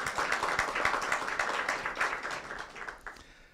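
Applause from the audience at a public dialogue event, a dense spread of clapping that stays fairly steady for a few seconds and then thins and fades out at the end.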